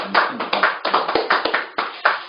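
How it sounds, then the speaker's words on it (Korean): A small group claps at a Korean political gathering with a Democratic Party official, a quick run of uneven, close hand claps in short bursts. "응원의 박수 한번 부탁드립니다"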